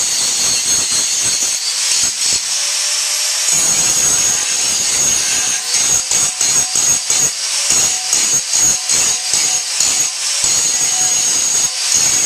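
A tool works along the edge of a wooden test plate in a steady series of rasping strokes, loud and close, with a constant high hiss running underneath.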